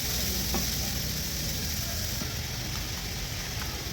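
Thinly sliced onions fry in hot oil for chicken curry, producing a dense, continuous sizzle that stays steady and close throughout, with only a faint stir or two and no talking.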